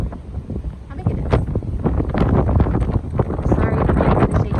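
Strong wind buffets the microphone steadily atop the Pilgrim Monument in Provincetown, a heavy rushing roar with gusty thumps and no clear voices.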